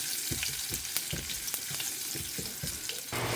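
Crushed garlic cloves sizzle in hot oil in a pan during Indian kuzhambu cooking, a steady frying hiss broken by soft clinks and stirring scrapes, close and fairly quiet.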